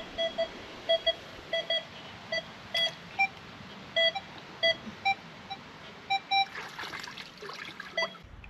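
A metal detector gives repeated short electronic beeps while searching in water, an irregular series of clear tones over a steady wet trickling background, with a burst of splashing near the end.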